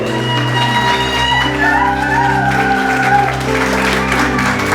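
A church congregation claps and acclaims the Lord, steady loud applause blending with sustained organ-like musical tones and voices filling the room throughout.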